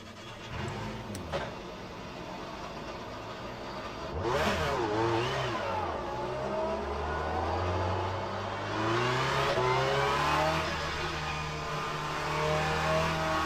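GT3 race cars, including a Ferrari GT3, pulling out of pit lane together in the rFactor 2 racing game at Imola, with engines revving and accelerating one after another, loud and close with rising and falling pitch sweeps.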